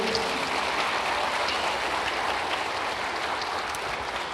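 A church congregation breaks into dense, sustained applause, a steady rain-like wash of many hands clapping together without a pause, with no voices rising above it.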